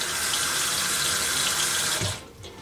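Cold water runs from a kitchen tap for rinsing fish fillets, a bright steady splashing stream that cuts off abruptly near the end, leaving faint dripping.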